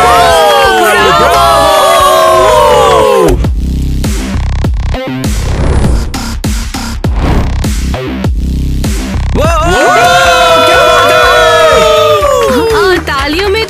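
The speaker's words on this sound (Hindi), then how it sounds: "तालियां बजाओ।" An audience at a makeover beauty contest clapping and cheering loudly, with crowd shouts and whoops mixed in. It opens and closes with bursts of high, sung or shouted voices, and a busier roar of noise sits in the middle.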